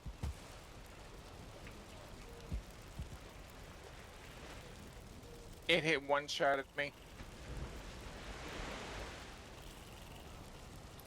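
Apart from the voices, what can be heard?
rain falling in the video game Valheim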